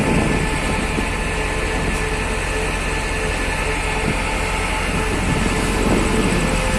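A new diesel locomotive, number 1151, on a test train rolls past with a steady, heavy rumble and rail noise, loud and continuous throughout with no voices.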